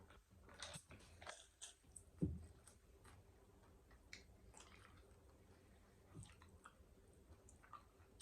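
Soft, close crunching and chewing of a crisp taco, with a sharper bite near the start and quiet gaps between chews.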